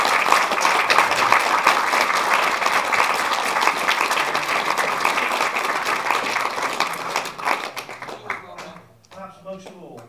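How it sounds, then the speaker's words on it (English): A conference audience at Leeds Beckett University applauds in a sustained, dense burst of clapping that stays loud for most of the clip, then thins out into scattered claps and fades away. "So big round of applause for everyone."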